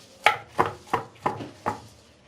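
A knife chops onions, tail fat and garlic on a board for a liver kebab meze, five crisp evenly spaced chops, close and clear.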